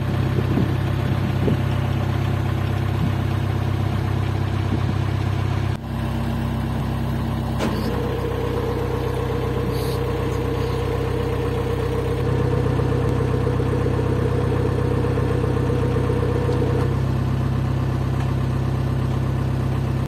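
A narrowboat engine chugs steadily on the Grand Union Canal, a low continuous throb that stays loud and close throughout, with a brief knock and faint background sounds over it.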